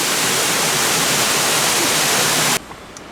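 A waterfall at the Oklahoma City Zoo pours with a loud, close, steady rushing roar that cuts off abruptly near the end, leaving quiet background.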